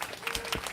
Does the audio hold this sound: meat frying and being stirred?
no